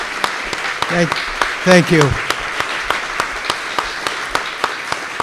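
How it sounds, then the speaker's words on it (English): An audience at a Burlington community forum on recovery gives a round of applause, a continuous patter of many hands with scattered louder claps, while someone speaks briefly over it. "Can we give Peter a huge round of applause?"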